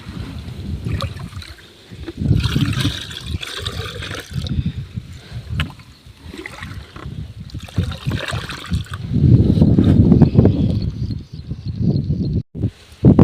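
Water from a motor pump gushing into a drum and buckets on a farm, heard as a loud, continuous splashing and trickling that swells and drops as the flow shifts between containers.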